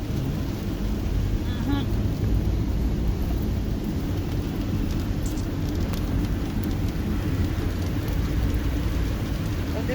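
Steady rain hisses on a surface, a continuous dense wash of sound with no pauses.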